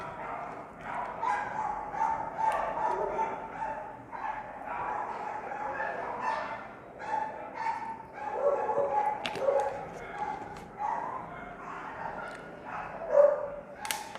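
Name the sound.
dogs barking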